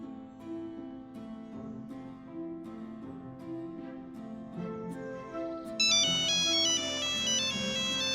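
A mobile phone ringtone plays as a melodic tune, quiet at first, then shifting to a louder, brighter repeating high-pitched pattern near the end, with no one talking over it.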